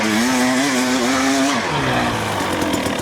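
A Husqvarna TE300 dirt bike engine drones loud and close on a play ride at Ride the Holler, its pitch rising and wavering before dropping into a rougher, lower idle-like rumble.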